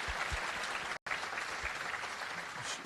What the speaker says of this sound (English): So you can clap this.